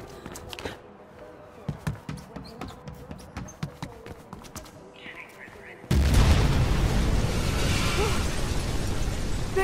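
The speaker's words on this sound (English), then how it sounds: "Big explosion over here!" An explosion in the first-person parkour game Mirror's Edge Catalyst: scattered light thuds and taps, then a sudden loud, sustained roaring blast that fills the last few seconds.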